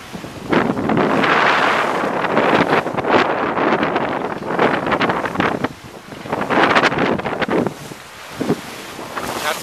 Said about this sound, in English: I'm just glad there is wind at the moment.